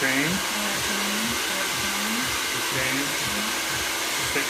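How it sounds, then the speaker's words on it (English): A hair dryer runs continuously with a loud, steady whooshing roar and a faint wavering hum underneath. "I never turned the dryer off"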